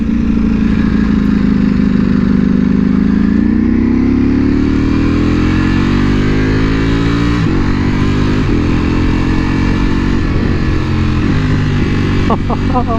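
Ducati Panigale V4R superbike engine revving loudly and continuously, pitch climbing and dropping through several quick up- and downshifts with an auto blipper, on street mode, with a rider's voice faintly underneath.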